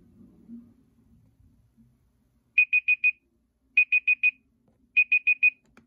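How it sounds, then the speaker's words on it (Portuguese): An electronic alarm beeps in three bursts of four rapid high tones, loud and close, after a few seconds of quiet room noise. "E daqui 5 minutos o alarme vai despertar aqui."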